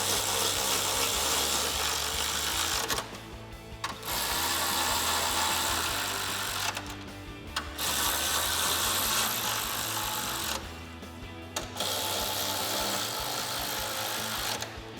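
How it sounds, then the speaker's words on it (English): Ratchet fitted with a 10mm socket tightening the upper grille bolts on a 2019-2021 Chevrolet Silverado 1500 during a front bumper install. It gives three long, loud, close runs of steady mechanical whirring, each split by a short pause, with no talking. "Take a 10mm socket and tighten these down."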